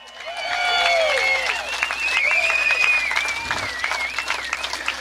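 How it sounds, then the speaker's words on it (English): An audience at a 9/11 memorial bikers' rally in DC applauds a group of military veterans: a dense, sustained burst of clapping from a large crowd, with scattered whistles and cheers riding over it for several seconds. "Give these people a round of applause."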